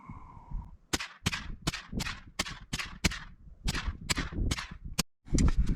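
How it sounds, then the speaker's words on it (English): Ruger 10/22 LVT .22 LR rifle firing Federal Automatch rounds at a 50-yard range: a string of about a dozen sharp, evenly spaced cracks, each a crisp snap with short decay, alone without talk. "we're going to start with the 1022 LVT, shooting the Federal Automatch. 10 rounds at 50 yards"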